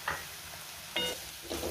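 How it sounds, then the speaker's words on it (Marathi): Green chillies sautéing in a pan over a low flame for a chutney, with three soft bursts of stirring and faint sizzle against a quiet background. "गॅसची फ्लेम लो ठेवून मी 3 ते 4 मिनटं मिरची व्यवस्थित परतून घेतलेली आहे"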